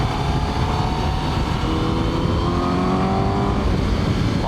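A Honda CBR1000RR-R sport motorcycle engine revs hard past 6000 rpm, its exhaust valve opening, a loud, steady high-pitched howl with rising tones and heavy wind rush throughout, no talk.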